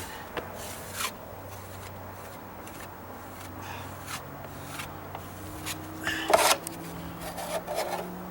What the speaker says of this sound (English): if I think I have any high bits, I can kind of scrape off a little bit